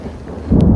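A short, loud burst of thunder rumbles low and heavy during an outdoor thunderstorm, swelling sharply in its second half.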